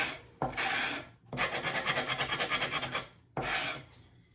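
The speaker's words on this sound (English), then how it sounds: "I'm just going to get these burrs off real quick" Burrs on a coffee bar countertop being sanded off by hand with 100-grit sandpaper: three loud bursts of dry rasping, the middle one a fast run of rhythmic back-and-forth strokes, with short silences between.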